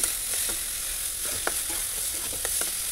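Soft sizzling of finely ground carrot and peas roasting in a pan for veg crispy bread rolls, with a few light scrapes of a stirring spoon over a steady faint hiss.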